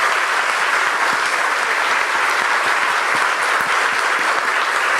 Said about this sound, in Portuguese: eu queria novamente pedir uma grande salva de palmas para os nossos 3 palestrantes.